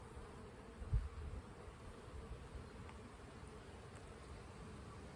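Honeybees hum in a steady, faint, continuous drone during an open colony inspection, with a single soft knock near the start and no talk.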